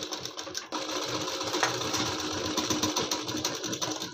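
A sewing machine hums in one continuous close stitching run around the neckline of a net fabric kurti with lining, its motor whirring steadily with a slight pause early on.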